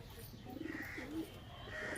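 A big-sized Chini Kaldum pigeon coos softly in a loft, a low rolling burble repeating a few times over faint background noise.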